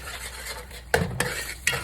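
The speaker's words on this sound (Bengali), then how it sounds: "ভালো করে কষিয়ে নিতে হবে।" Beef with onion paste and salt being stirred and sautéed in a pot for biryani, a steady sizzle punctuated by three sharp scrapes and clinks of a spoon against the metal, no voices.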